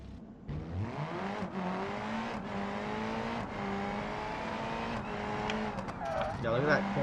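A rally car in BeamNG corners and drifts, its engine revving and shifting pitch with tire squeal and scrabbling under continuous casual talk.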